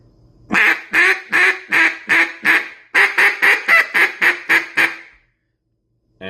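A cut down duck call is blown in two bursts of loud, nasal quacks: a run of five evenly spaced notes, then a run of seven, followed by silence.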